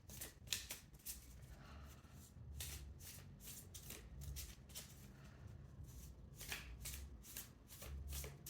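Tarot cards are shuffled by hand in a quiet room, a close run of crisp riffling bursts and soft slides repeating in uneven clusters with no talk.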